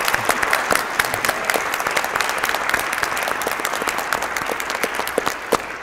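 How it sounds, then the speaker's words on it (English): Church audience at First Wayne Street United Methodist Church applauds Dr. Jonathan Young after his performance, sustained loud clapping with sharp individual claps standing out throughout. "I just want to give a huge, just a big round of applause for Dr. Jonathan Young for playing all of that."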